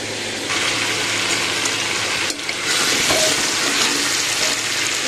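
Onions and spices fry in a pan for soya pulao, a loud continuous sizzle and hiss with faint stirring scrapes underneath and one brief dip in the middle.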